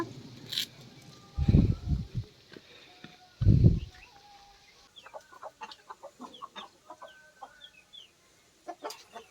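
Hens arriving at their new coop on a poultry farm cluck in scattered short bursts, with a couple of louder thumps early on and a soft rapid chatter of clucks afterward.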